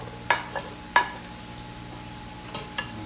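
Onion, garlic and carrots stir-fried in a pan, a quiet sizzle under a few sharp scraping clinks of a utensil against the pan, spaced irregularly.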